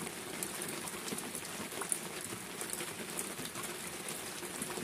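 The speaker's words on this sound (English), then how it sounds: "It's raining, and who'd have thought it?" Steady rain patters on a surface with a constant hiss, and a few louder drips stand out now and then; no voices.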